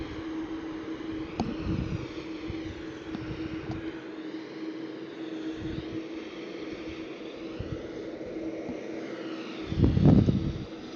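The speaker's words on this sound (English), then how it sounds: "Lining up on the runway is the Brussels Airlines Airbus 320 Classic 1." A Brussels Airlines Airbus A320 lines up on the runway at Brussels Airport, its engines giving a steady, distant drone that swells louder near the end, with no voices.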